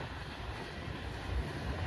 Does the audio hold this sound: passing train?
yes